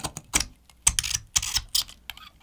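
Razor blade scratching across a stainless steel phone frame, a series of short, sharp scraping strokes in irregular bursts, close and fairly quiet, with no talking.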